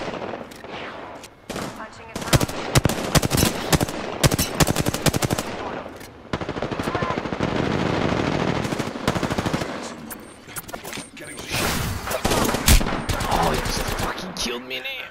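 Apex Legends gunfire crackles through a chaotic firefight, sustained automatic bursts and rapid shots that swell and break off repeatedly, loud and close, with players talking over the shooting.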